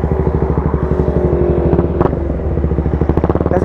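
Triumph Speed 400 motorcycle cruising along a road, its engine giving a steady pulsing drone with rhythmic firing beats and some wind rumble, close and loud throughout with no talk.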